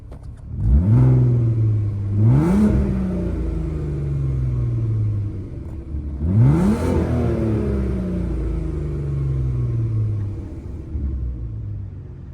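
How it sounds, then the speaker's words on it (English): A 2002 Volkswagen Golf 2.8 V6 engine is revved twice from idle, each blip climbing quickly to a loud, rising roar and then falling slowly back to a low rumbling idle, close by. "I'll give it a quick rev for you."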